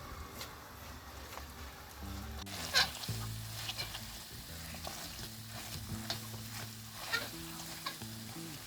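Bread halwa being stirred in a pan, with soft scraping and spoon-on-metal clinks repeating steadily over a low background hum, close and moderate in level.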